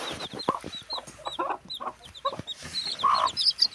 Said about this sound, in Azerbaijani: Toyuqlar nə arsız heyvandır.